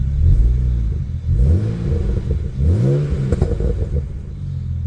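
A BMW E90's engine idles roughly and revs up several times, each rev rising and falling in pitch, loud and close.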